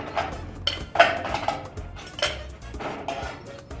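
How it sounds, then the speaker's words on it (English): Ice clatters and clinks into a metal cocktail shaker for a piña colada, a few loud bursts of rattling cubes with quieter knocks between, close and alone. "We take the shaker and fill the shaker with ice"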